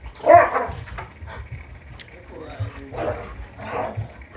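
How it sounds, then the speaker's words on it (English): A dog barks a few times nearby, with talking and household noise going on around it. "dogs being noisy"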